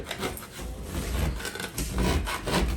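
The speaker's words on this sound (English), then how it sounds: "I'll start with the firm scraper." A firm 3-inch scraper drags across dry popcorn ceiling texture in steady, gritty rasping strokes, close and fairly loud, with repeated pushes and no talking.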